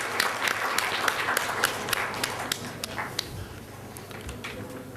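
A quiz competition audience applauds a team, a dense steady wash of clapping sustained throughout at moderate loudness, with some individual claps standing out.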